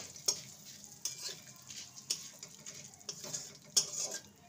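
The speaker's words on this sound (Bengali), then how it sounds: "ফোড়নটা ভাজা হয়ে গেছে, এবার দিয়ে দেবো সামান্য হিং।" Asafoetida and whole spices fry in hot oil for tempering a vegetarian raw banana dish, giving a soft steady sizzle broken by a few sharp spoon clinks and stirring scrapes against the pan.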